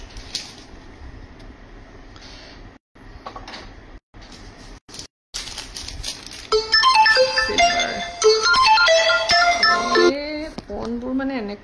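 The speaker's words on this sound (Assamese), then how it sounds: "ফোনবোৰ মানে এনেকুৱা টাইমত কৰে নহয়" A mobile phone ringtone plays as a bright, repeating electronic melody that starts partway through and grows loud, following quieter room sounds with brief dropouts; no speech over it.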